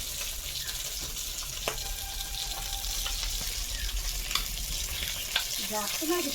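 Pieces of fish frying in a pan in a home kitchen, a steady hissing sizzle with small crackles and the occasional clink or scrape of a utensil, close and continuous throughout.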